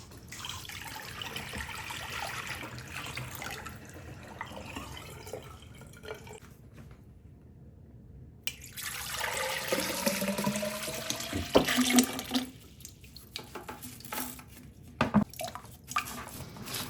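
Water splashes and runs as a Pentair Pentek standard filter housing is rinsed and scrubbed with a brush, with a steady tap-like flow, sloshing and a few sharper knocks as the water is emptied and refilled.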